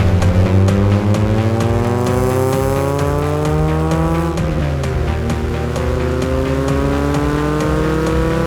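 Interior engine sound of a Mk1 VW Citi Golf 1.8i being driven, a loud, close four-cylinder drone rising through the revs with a brief gear change midway, then climbing again; no voices.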